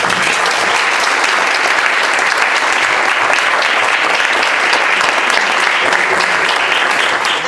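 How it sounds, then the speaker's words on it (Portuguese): A large audience claps at a 2014 6 Continentes festival show, a loud, dense, even applause that holds steady throughout. "Uma grande salva de palmas."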